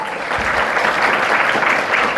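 A seated audience at an Islamic religious lecture bursts into sustained applause, a dense steady wash of many hands clapping at close range with no pause.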